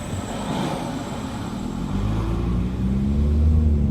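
A transport truck rolls past on a road in Niagara Falls, Canada, its low engine rumble and tire noise swelling steadily louder toward the end, with no talk over it.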